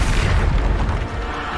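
A Bombarda spell blast in Hogwarts Legacy, a loud, deep rumbling boom that fills the whole moment and slowly decays.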